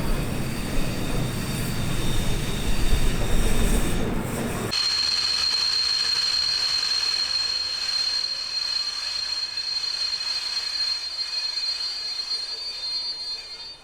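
A historic train on the Kuckucksbähnel line pulls into Neustadt station near the Pfalzbahn Museum, with loud rumbling and rolling that drops off sharply midway, leaving a steady high wheel squeal and a fading hum.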